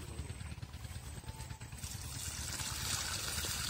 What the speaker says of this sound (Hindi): मैं पानी देन लगा